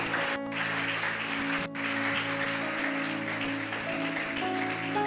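Church congregation applauding during a worship service, a steady wash of clapping from many hands throughout, moderately loud with a couple of sharper bursts, no talking.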